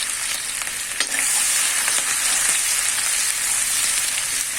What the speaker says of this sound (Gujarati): અહીંયા 1 ચમચી ભરી અને આદુ મરચાની પેસ્ટ એડ કરીએ છીએ.